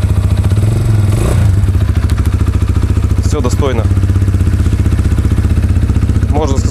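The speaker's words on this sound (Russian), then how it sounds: "Сам двигатель тоже без каких-то посторонних шумов." A Falcon Speedfire 250 motorcycle engine idles steadily and evenly throughout, with someone talking over it and a few light clanks.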